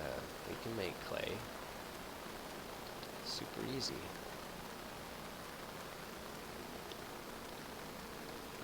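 Rain falling in the Minecraft modpack Agrarian Skies, a soft, steady hiss of rainfall that runs throughout, with people talking over it.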